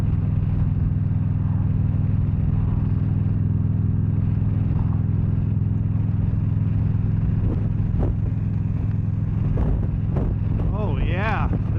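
Wind buffets the rider of a 2013 Victory Cross Country touring motorcycle, a constant roar over a low engine drone, with a voice breaking in briefly near the end.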